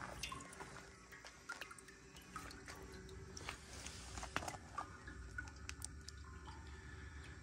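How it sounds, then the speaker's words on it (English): Water drips from a leaking homemade boiling pot for elk skulls. Faint, scattered drips and small taps sound over a low, quiet background. "I have a little bit of leaking going on there."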